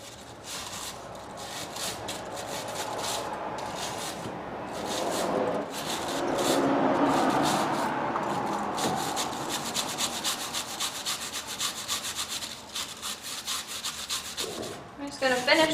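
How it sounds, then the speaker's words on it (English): Wire brush scrubbing the caliper ears on a 2007 Chevy Malibu front brake, rapid rasping back-and-forth strokes close to the microphone that swell in the middle and break into choppier bursts toward the end. "I'm just going to finish wire brushing this here"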